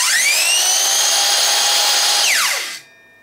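A Makita XSH01Z 18-volt cordless 7-1/4 inch circular saw spins up to a loud, steady high whine with no cutting. After about two seconds its electric brake drops the pitch quickly to silence.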